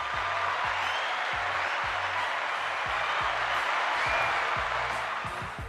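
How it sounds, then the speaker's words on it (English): Applause from a small group during a live stream, a dense steady patter of clapping that holds throughout and tails off slightly at the end, with low thumps mixed in. "Everybody give Bailey a round of applause"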